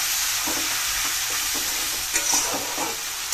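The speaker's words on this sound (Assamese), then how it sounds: "বিলাহীখিনিও দি দিলো এইখিনি ভালদৰে ভাজি ল'ম" Tomatoes sizzling and frying in hot oil in a pan, a steady close crackle with a few soft stirring scrapes and no talking.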